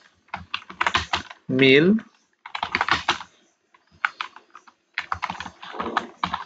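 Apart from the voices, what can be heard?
typing on a computer keyboard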